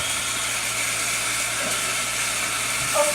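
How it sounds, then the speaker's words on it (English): Tap water runs steadily in a home kitchen during cooking, a continuous broad hiss at moderate level with no pauses. "Don't mind the sound of running water."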